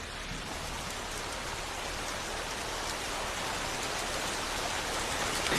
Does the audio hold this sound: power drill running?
no